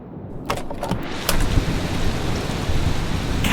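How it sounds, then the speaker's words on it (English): Steady summer rain falls outside an open hotel window in Barcelona, a dense broadband hiss close by, with a few brief clicks near the start. "A rainy summer's day in the Mediterranean city of Barcelona. A rainy day indeed."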